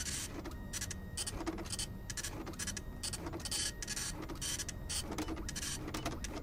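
A printer runs steadily throughout, a continuous dense mechanical whir with rhythmic feed pulses and clicks, loud and close with no talk.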